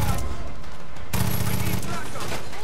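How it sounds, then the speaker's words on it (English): Loud, dense gunfire from the Far Cry 5 video game, bursts of rapid shots crowding together over about two seconds, with muffled voices mixed in underneath. "What are you shooting at?"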